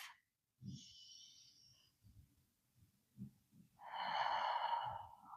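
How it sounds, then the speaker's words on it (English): A slow, deep breath during seated yoga, close and soft, first a faint inhale then a fuller, louder exhale of airy rushing, with quiet rhythmic low thumps underneath. "One more deep breath."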